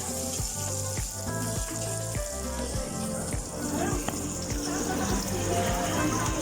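Green chili being sautéed in a pan as the ginisa base for papaitang kambing, a steady soft sizzle running beneath louder background music throughout.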